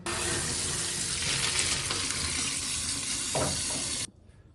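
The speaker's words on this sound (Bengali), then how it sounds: "আমাদের নুডলসটা সিদ্ধ হয়ে গিয়েছে এবার আমরা এটাকে ঢেলে ফেলবো" Hot water from boiled noodles pouring steadily into a sink while being drained, a continuous loud splashing rush lasting about four seconds before it stops abruptly.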